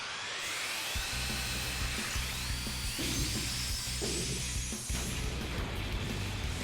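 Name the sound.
drill attack sound from video game Super Robot Wars X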